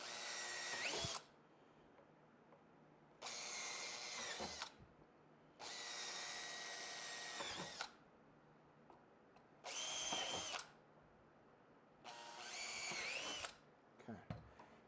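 A power drill with a 3/16 bit drills a series of holes marked by a template during a Lowrider ST front audio kit install, in five or six separate whirring bursts of a few seconds each with short pauses between.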